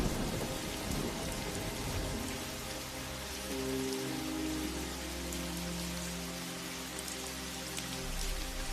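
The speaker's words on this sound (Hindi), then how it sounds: "तभी तेज तूफान, आंधी और बारिश शुरू हो गई।" Heavy rain pours steadily through a thunderstorm, with low thunder rumbling and swelling beneath it for several seconds, the loud wash of the downpour staying constant from start to finish.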